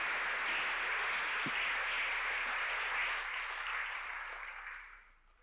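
A crowd claps steadily and warmly for a few seconds, the applause thinning out and fading away at the end.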